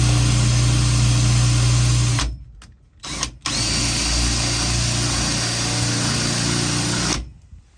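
A power drill whirs loudly and steadily during a hot water tank install, pausing briefly with a couple of short bursts before running on again, then stopping.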